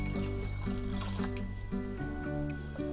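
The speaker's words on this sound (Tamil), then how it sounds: "இப்போ தேவையான அளவு தண்ணி ஊற்றி இது நல்லா ஊறட்டும்" Water is poured into a vessel of rice and lentils set to soak for tomato dosa batter. It makes a steady close-up filling and splashing sound with a few brief clinks running through it.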